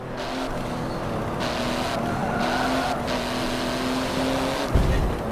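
Race car engine droning steadily in Forza 7 with no driving assists, a continuous loud motor whine with brief tire squeals and a bump near the end.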